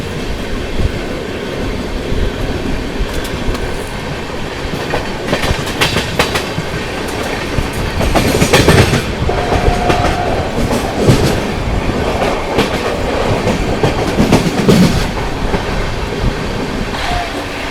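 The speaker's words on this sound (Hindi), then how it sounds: "सामने से आ रही है Chhatrapati Shivaji Maharaj terminus Nagpur Sevagram superfast express" The Chhatrapati Shivaji Maharaj Terminus–Nagpur Sevagram Superfast Express thunders past close by, a loud continuous roar of wheels with rhythmic clickety-clack over rail joints and brief metallic squeals.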